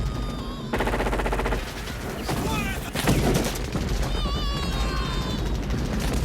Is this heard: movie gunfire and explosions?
yes